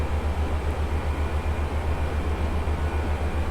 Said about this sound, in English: I would like to find a way to make this plane a bit quieter though. It's definitely too loud.